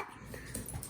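Dogs at home give a brief, faint flurry of barks and yips against a noisy indoor background.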